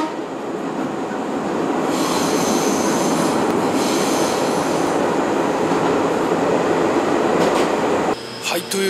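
Loud, continuous rumble and roar of a Daiyūzan Line train winding through a narrow space on its tracks in Japan, with rattling and faint squeals, steady throughout before a brief change near the end.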